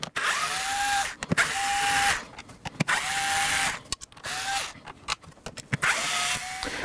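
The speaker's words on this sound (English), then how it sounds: "For this part, it's nice to have that electrical screwdriver that I was talking about." Electric screwdriver backing out screws from the saddlebags of a 2010-2017 Can-Am Spyder RT; several short whirring bursts with brief pauses and clicks between them, close up and with no talk.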